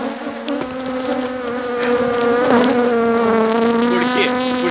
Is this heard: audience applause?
no